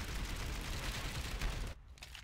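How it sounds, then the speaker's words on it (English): Rapid gunfire crackles from a Counter-Strike match, an MP7 among the weapons, in a loud dense burst of overlapping shots that cuts off abruptly near the end, leaving a quieter tail. "They would have heard the gunfire there"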